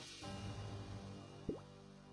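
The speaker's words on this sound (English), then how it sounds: "having this in your inventory is constantly making like a melting, dripping sound" Melting, dripping effect from an inventory item in RuneScape 3: a single faint liquid drip plops once near the middle, over a quiet game ambience with a soft low hum.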